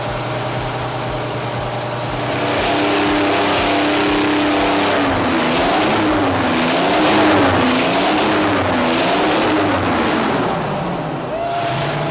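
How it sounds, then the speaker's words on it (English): Detroit Diesel V71 series engine, a rugged old diesel of the kind used in marine vessels, heavy haul trucks and industrial tractors, running loud and close with a deep steady drone that swells and wavers in pitch as it revs. "This is peak Detroit diesel, the V71 series powered marine vessels, heavy haul trucks, and industrial tractors"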